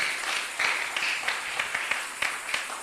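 A church congregation applauds and cheers in praise of Jesus during a French-language sermon, with continuous clapping and scattered louder claps from a crowd, no clear speech.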